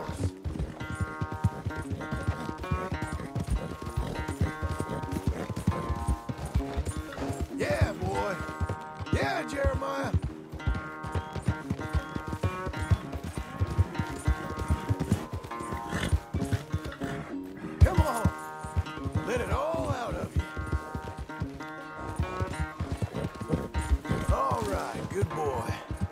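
Horse hooves clatter in rapid galloping clip-clop rhythm in Red Dead Redemption 2, moderately loud, with occasional snorts, voices and game sounds woven in.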